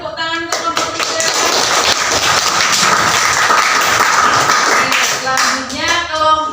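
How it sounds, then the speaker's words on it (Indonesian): A classroom of students claps for a student group, a loud burst of dense applause that starts abruptly and holds for several seconds before tapering, with a little voice and shuffling around the edges. "Beri tepuk tangan untuk kelompok 3."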